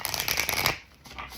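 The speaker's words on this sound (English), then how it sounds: "and then we'll get the tarot cards going here." Tarot cards shuffled in quick, close riffling bursts for about a second, then the crisp papery clatter falls away into a quieter pause before a little faint handling resumes.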